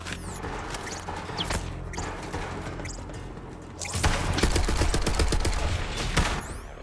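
Gunfire in Borderlands 3 during play as Amara: a continuous, dense barrage of shots and impacts that grows louder and more intense partway through, mixed with game effects.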